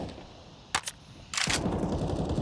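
Short bursts of gunfire in Counter-Strike on the Nuke map during a professional match, two quick close bursts followed by a louder sustained stretch of shooting and game noise.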